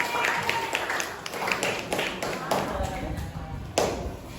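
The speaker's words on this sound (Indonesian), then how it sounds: "Ayo kasih tepuk tangan dulu buat temannya." A classroom of students applauds a classmate with rapid, uneven clapping that rises and falls over a few seconds, close and moderately loud with some voices mixed in.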